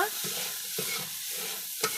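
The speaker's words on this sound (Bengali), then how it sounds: "এই বাগদা দিয়ে মশলা দিয়ে ভাজতেছি" Continuous sizzling of tiger prawns frying with spices in a pan, punctuated by a few rhythmic scrapes of a spatula stirring.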